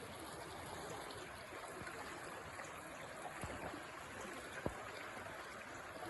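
Fast-flowing snowmelt stream on Vancouver Island near Duncan, Victoria, a steady broadband rush of water that stays at an even level throughout, with a couple of faint clicks and no talking.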